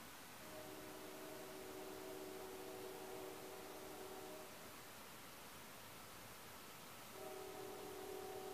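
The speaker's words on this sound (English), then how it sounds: "I love the sound of the night train." A distant train rumbles by at night in a Florida swamp under steady broadband noise, its horn-like tones holding for a few seconds, dropping out, then returning near the end.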